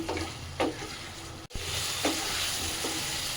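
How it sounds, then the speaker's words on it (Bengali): Potato pieces fry and get stirred in spiced oil for Bengali chicken kosha, a steady sizzle with a few scraping stirs of a spoon against the pan, close and moderately loud. "এবারে আমি আলুটা এর মধ্যে দিয়ে দিচ্ছি মাংসের মধ্যে এই আলুটা আমি পাঁচ মিনিটের মতন কষবো"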